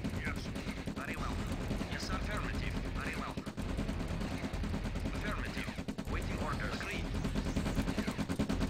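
Gunfire from units attacking a structure in the real-time strategy game Command & Conquer: Red Alert, with steady bursts of shots running throughout under game music and chirping effects, fairly loud and continuous.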